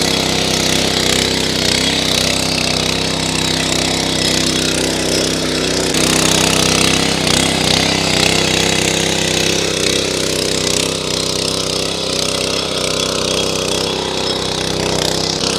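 A mini tractor with a small engine, driving a rotavator through farm soil in second gear, gives a loud, continuous chattering engine roar with steady rumbling from the blades churning earth, close by and without pause.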